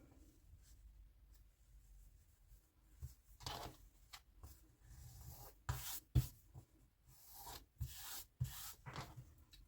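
A rectangle of patchwork quilting fabric is folded over and over, giving soft, quiet rustles and rubs in intermittent bursts, close by, with no one talking.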